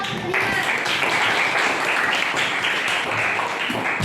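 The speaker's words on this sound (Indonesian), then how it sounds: "Tepuk tangan untuk kelompok 5" Classroom group of students clapping for a presenting team, a steady, fairly loud patter of hands sustained for about four seconds.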